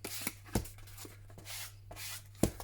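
Black ink rubbed by hand onto junk journal paper, soft scuffing strokes at close range in short bursts, with a few sharp taps or knocks between them.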